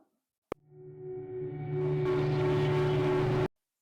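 A distorted, droning sound effect with a sharp attack, then fading in and swelling to a steady, dense roar with strong low tones before cutting off abruptly after about three seconds.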